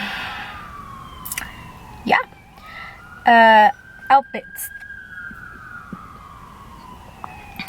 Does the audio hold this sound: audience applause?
no